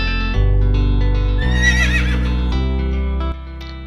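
Horse whinnying in a single loud, close neigh over a steady musical backing, with no talk.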